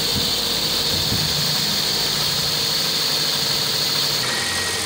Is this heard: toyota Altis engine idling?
yes